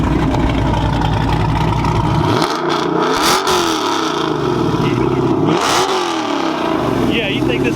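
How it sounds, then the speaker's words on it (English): A car engine idles loudly up close, then gets blipped in two sharp revs that rise and fall, with a deep rumbling idle in between and voices speaking over it. "how about we give him a couple revs?"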